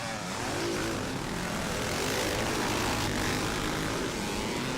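Several classic twin-shock dirt bikes, including a 1983 Honda CR480, roar off the start line of a pre-1984 scramble race, a dense broadband engine drone that stays loud and steady without letup.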